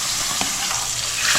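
Milkfish skin frying in hot oil gives a loud, steady, close sizzle and crackle, unbroken across the moment.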